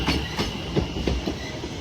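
A train on the Great Eastern Main Line at Stratford, a service bound for London Liverpool Street, rolls past close by with steady rhythmic clickety-clack of wheels over rail joints and no voices.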